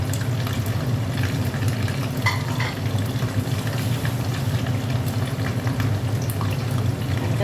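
Hilsa fish pieces and heads fry together in a pan, giving a dense, even crackle and bubbling that stays at a steady level under a low background hum throughout.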